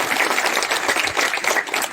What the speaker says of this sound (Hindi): मैं चाहता हूं कि एक बार जोरदार ताली आप सब अपने लिए बजाएं